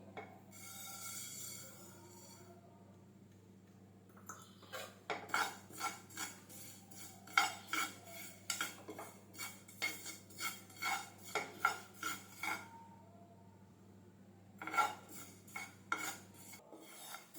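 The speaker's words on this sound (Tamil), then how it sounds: "இப்போ இதில் கருப்பு எள் வந்து நான் ஒரு அரை டம்ளர் எடுத்திருக்கேன் இதையும் சேர்த்து நம்ம வறுத்துக்கலாம்" Black sesame seeds dry-roasting in a pan for idli podi, stirred with a spoon, giving a run of uneven scraping clatters and rattles over a steady low hum, with no talking.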